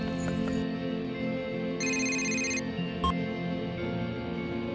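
A telephone rings in bright electronic bursts, a short ring at the start, a longer ring in the middle and a brief chirp after, over a steady background hum in a LittleBigPlanet machinima scene.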